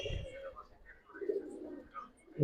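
Pigeons on a rooftop loft give soft, low cooing in short bursts, faint and close, with a louder rustle or flutter at the very end.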